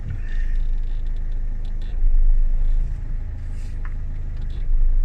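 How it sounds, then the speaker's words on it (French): A Peugeot 206 engine runs at a steady idle after starting, a continuous low rumble heard up close, with a slight rise in level partway through and no one talking. "Je mets le contact. Enfin, je démarre le véhicule."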